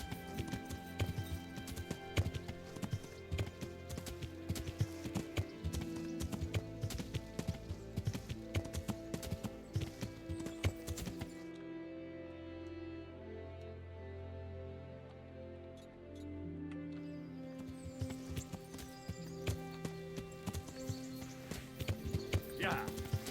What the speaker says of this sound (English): of what horses actually sound like.